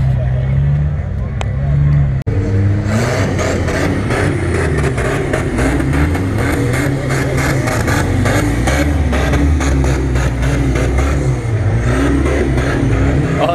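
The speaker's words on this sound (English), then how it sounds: "it's a turbo four cylinder and it's a right-hand drive. That is a cool crawler." A right-hand-drive rock crawler with a turbocharged four-cylinder engine revs steadily in the desert, a loud, close, sustained engine drone that rises and falls, with people talking over it.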